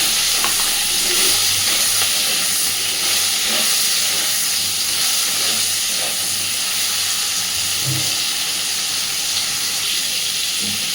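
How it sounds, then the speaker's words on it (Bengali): Fish pieces fry gently in oil, making a loud, even hiss of sizzling that runs unbroken from start to finish, with faint knocks here and there. "হালকাভাবে সুন্দরভাবে মাছগুলো ভেজে নেব।"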